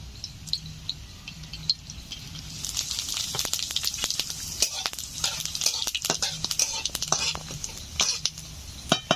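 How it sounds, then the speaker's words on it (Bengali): Cardamom, cloves and cinnamon dropped into hot oil for chicken curry, crackling and sizzling loudly with sharp pops and spitting bursts, growing busier after a quiet start. "তেল গরম হয়ে গেছে, দিয়ে দিচ্ছে এলাচ, লবঙ্গ, দারুচিনি।"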